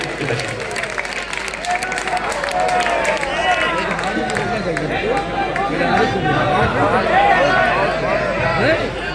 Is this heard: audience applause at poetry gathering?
yes